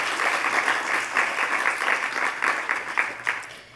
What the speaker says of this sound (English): So a round of applause to all of the ICA staff.